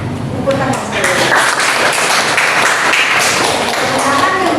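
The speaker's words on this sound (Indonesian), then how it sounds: "Tepuk tangan sekali." A classroom of pupils claps in a burst of applause during a maths micro-teaching lesson on cuboid and cube volume, with voices talking over the clapping.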